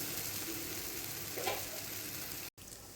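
Rava paniyaram batter cooks in the wells of a lidded paniyaram pan, giving a soft, even, continuous sizzling hiss with a momentary dropout near the end.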